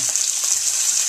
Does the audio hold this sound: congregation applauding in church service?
no